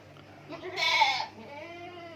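A sick goat with a cough and runny nose lets out one short, nasal, wavering bleat at close range, with quiet around it.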